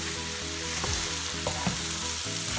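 Raw rice being stir-fried in a pan for Thai chicken and rice, a steady dense sizzle with soft scraping stirs throughout, close and continuous with no talking.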